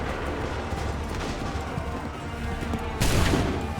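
A musket volley in Assassin's Creed III bursts out in a loud, crackling wave of gunfire after a stretch of battlefield rumble and clatter.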